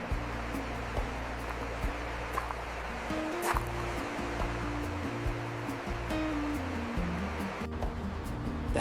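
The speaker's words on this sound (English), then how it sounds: "Hear the rushing water of an unseen stream nearby." Steady rushing water from a stream in the rain around Swiss alpine villages near Interlaken, a constant, fairly faint broadband wash with no voices.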